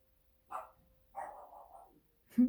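A dog barks three times, spaced apart, at moderate distance in an otherwise quiet room.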